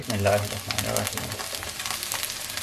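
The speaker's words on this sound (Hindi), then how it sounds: "पोटैटो बॉल्स जो हैं वो बहुत ज़बरदस्त फ्राई हो गए हैं।" Potato balls deep-frying in hot cooking oil in a kadhai, a loud steady sizzle and bubbling close up, with faint stirring and no talking.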